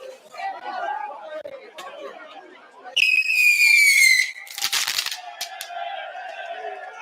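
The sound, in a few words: fireworks going off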